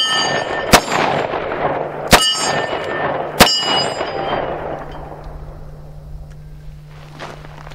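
Three sharp revolver shots from a .38 Special snubnose loaded with Rock Island +P ammunition, fired outdoors at a range, each crack ringing with a metallic clang and trailing off into a steady low hum.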